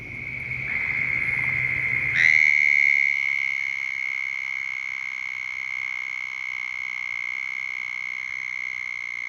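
A loud, sustained high trill of southern toads calling at a suburban Orlando pond drones on without pause, starting after a brief rumble of background noise.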